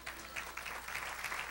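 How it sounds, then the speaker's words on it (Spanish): Congregational applause for the Lord in a church service, a dense, steady patter of many hands clapping at moderate distance throughout the short burst. "Dale un aplauso al Señor."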